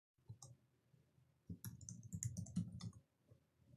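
Someone types a Linux terminal command on a computer keyboard, a quick run of light key clicks with a denser burst in the middle, close and quiet, with no speech.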